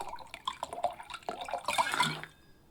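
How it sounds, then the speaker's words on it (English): In the card game Card Shark, a drink is poured with light dripping splashes that build into a brighter burst of liquid before stopping abruptly, quiet and close. "I wanted to pour a bit longer."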